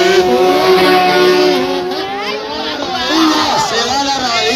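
A motorcycle engine revs loudly at a race, its pitch rising and falling, while a crowd chatters and voices shout in the background.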